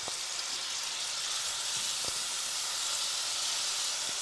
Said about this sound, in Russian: Пока мясо будет жариться